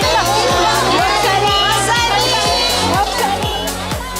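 A Peruvian church congregation cheers loudly and enthusiastically to welcome their visiting pastor, a dense, steady crowd roar with regular rhythmic beats running through it.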